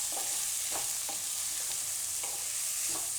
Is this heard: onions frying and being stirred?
yes